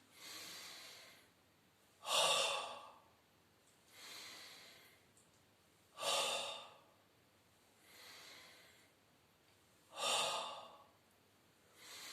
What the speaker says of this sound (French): Sur la montée, je vais expirer, bouche ouverte en faisant de la buée.